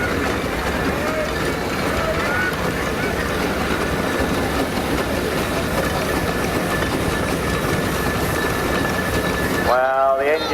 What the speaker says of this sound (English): the engine coming towards me now is called the Duchess. A Burwell traction engine.